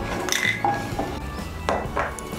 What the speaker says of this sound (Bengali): বড়িগুলোকে আমি এখন তুলে নিচ্ছি